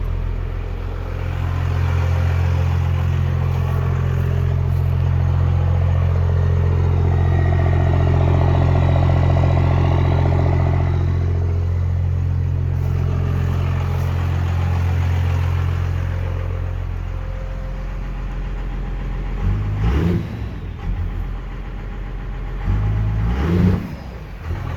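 A 12-valve Cummins diesel truck engine with a P7100 injection pump, set up for an AFC preboost adjustment, idles with a steady, loud, low rumble. Near the end it is revved twice in short bursts.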